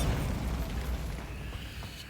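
A Bombarda blasting spell explodes in the Hogwarts Legacy video game, a dense rumbling boom that fills the clip and slowly fades, with no talking.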